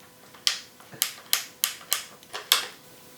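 A tool loosens a skateboard truck's inverted kingpin in a series of seven sharp, evenly spaced clicks, close and crisp against a quiet background.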